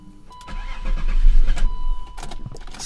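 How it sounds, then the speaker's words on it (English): A BMW E36 with an M52/M54 inline-six and a failing crankshaft sensor cranks with a rough, stumbling engine note that swells for about two seconds without catching, heard close and alone. "So let's go ahead and try to start it."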